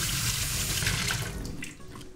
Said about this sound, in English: so we're gonna wash this quickly with running water.